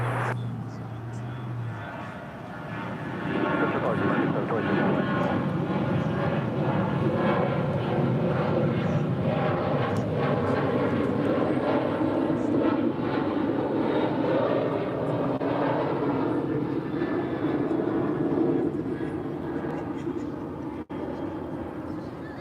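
Airliners departing DFW airport produce a broad, steady jet roar that swells after a couple of seconds and holds at a moderate distance for nearly twenty seconds, with faint voices underneath.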